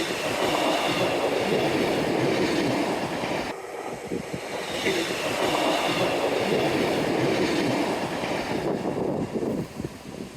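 A train passes close by along the Teignmouth seawall, its steady loud rumble and clatter of wagons running through the whole stretch. The roar dips briefly once before carrying on.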